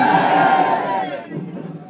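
A dense rally crowd at a Maratha reservation gathering in Gevrai roars and cheers loudly and steadily, with broad noisy babble that eases somewhat toward the end; no distinct clapping stands out.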